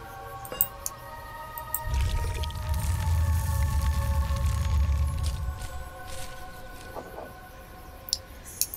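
Water pours into a bowl in the video game Otherworld, a soft steady splashing stream of a few seconds with drips before and after.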